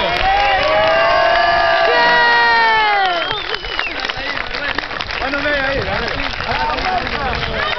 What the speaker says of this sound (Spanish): Fuerte el aplauso de todos.